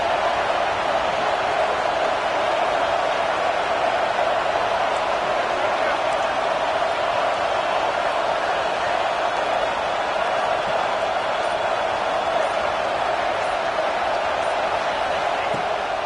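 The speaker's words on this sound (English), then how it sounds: "This dog crowd is off the leash, and they are coming after them, bringing noise on third down." A stadium crowd at a Kentucky vs Georgia college football game roars steadily on third down, a constant loud wash of noise with a commentator talking over it.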